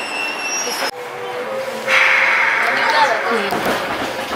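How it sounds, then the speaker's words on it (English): A Korean subway train pulls into a station, a broad rising rumble and hiss of the arriving cars with a brief squeal, heard close on the platform with a voice talking over it. "Train is here,"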